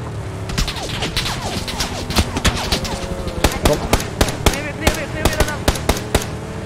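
Gunfire rings out in sharp, irregular bursts of loud shots, growing denser toward the end, with voices talking underneath.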